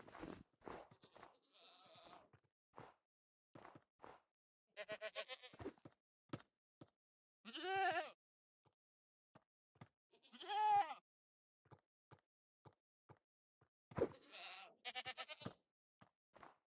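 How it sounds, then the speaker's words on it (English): Screaming goat in Minecraft gameplay, several separate, quiet, wavering bleats spaced a few seconds apart, with soft clicks and block sounds between them and no talking. "Screaming goat, I just heard."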